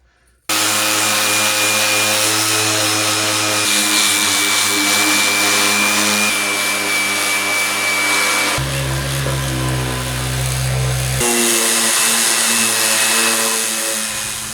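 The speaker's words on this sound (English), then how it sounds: "I'm going to resume sanding and see how far I can get." A power sander sanding a floor drones loudly and continuously, its motor whine holding steady with a few shifts in pitch, with no voices.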